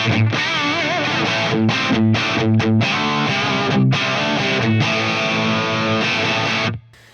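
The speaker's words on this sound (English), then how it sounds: "And then we can push the gain, say," A heavily saturated electric guitar runs through a Mesa Stiletto Deuce amp with Vintage 30 speakers, gain near two o'clock, playing loud, chunky rock chords with brief stops before cutting off at the end.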